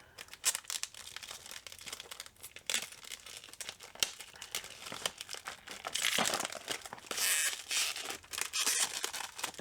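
Art supply packaging torn open by hand, with sharp crinkling plastic, ripping tears and rustling in irregular bursts, close and fairly loud, with no talking.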